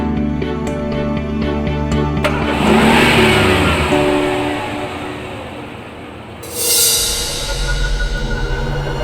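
A car engine catches and revs hard, its roar swelling and then receding as the vehicle pulls away, followed by a renewed engine surge near the end, with no voices.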